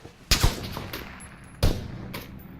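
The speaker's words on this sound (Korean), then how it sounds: "쏘는 소리 오, 쏜다. 언덕에서 쏜다" Two sharp, loud gunshot bursts ring out in PUBG from a hill, spaced about a second apart, each with a short rumbling tail.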